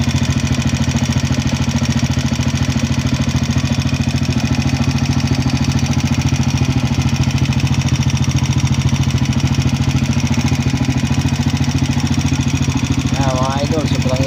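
A rough motorcycle engine idles steadily and loudly throughout, rattling as if loose coins were inside, with a brief voice near the end.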